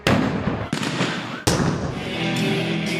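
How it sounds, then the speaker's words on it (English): Fireworks and explosions during street clashes in Tirana, Albania: a loud crackling burst of firecrackers followed by two sharp bangs that set off further dense crackle and hissing, close and continuous throughout. "Then come flames and more explosions."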